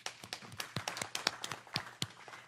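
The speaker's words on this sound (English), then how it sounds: "let's give her a round of applause." Scattered applause at a city council meeting honoring a member's mother, a small group giving sharp, distinct claps in an uneven rhythm, fairly quiet and with no talk over it.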